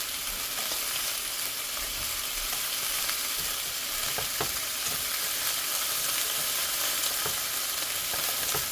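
Chicken thighs sizzling in a skillet, a steady, dense frying hiss with occasional small crackles and pops, no voices.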